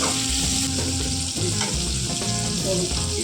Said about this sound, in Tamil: அதை ப்ரௌனிஷாக வதங்க எண்ணெய் நிறைய ஊற்றிருக்கோம்